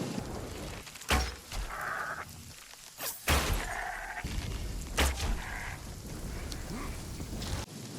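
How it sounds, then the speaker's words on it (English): Sheep bleat repeatedly among a grazing flock in the Runescape: Dragonwilds game world, several wavering calls spread across the stretch over steady rain-like ambient hiss, some nearer and louder than others. "Sheep everywhere, man."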